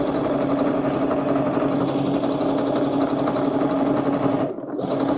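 A sewing machine stitches around the curves of a reversible fabric tote bag, running with a fast, even mechanical purr and rhythmic needle clatter, close and uninterrupted until a brief pause near the end.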